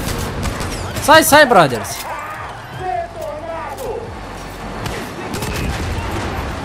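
Shotgun fire in the video game Far Cry New Dawn, several sharp blasts scattered through the scene under someone talking excitedly and in-game voices.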